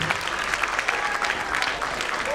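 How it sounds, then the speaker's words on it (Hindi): Audience at a Bal Sanskar children's camp in Sadhana Nagar, Indore, applauds to welcome two teachers; moderate, steady clapping with a faint voice over it near the end. "एक बार जोरदार तालियां बजाकर इन दोनों टीचर्स का स्वागत कीजिए"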